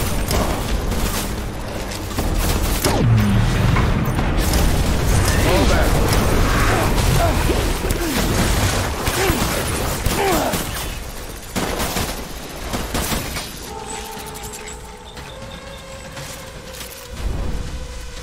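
Gunfire rattles through a battle scene in the video game Death Stranding, dense bursts and mechanical clatter filling the first half, then thinning into quieter shots over a steady tone, with voices shouting intermittently.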